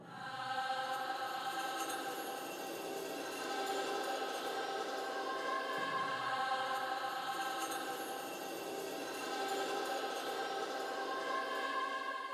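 A soft, sustained synth pad from a sample kit, used in a dark vocal beat, holds a steady airy chord throughout, fairly quiet and alone with no talking.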